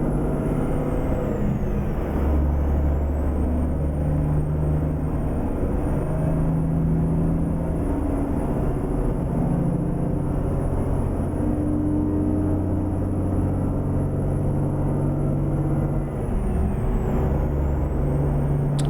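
A yellow Kenworth semi truck drives a road toward Tucumcari in American Truck Simulator, its loud, steady diesel rumble droning close and unbroken throughout, with no voices.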